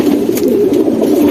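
A jumper pigeon coos softly, a short low throaty warble heard close up and alone.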